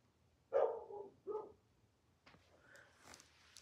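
A dog gives two short barks close by, then quieter rustling and faint background sounds follow.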